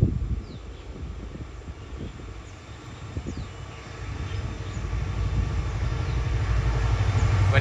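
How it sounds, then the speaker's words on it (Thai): Express train 171 rolls past Nong Pradu junction in Thailand, a steady low rumble of wheels and rail noise that builds gradually louder over several seconds, with no talk. "รอให้ขบวนรถเร็วที่171ไปก่อนนะครับ"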